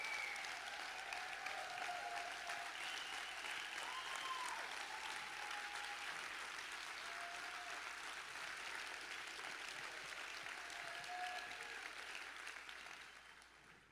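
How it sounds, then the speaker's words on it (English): Faint, distant applause from an audience at a Send Out Cards event, a steady wash of clapping heard from far away that holds evenly and then tapers off at the end, with faint high tones ringing through. "I'd love to get a round of applause for Whitney and the people in the back that are killing it"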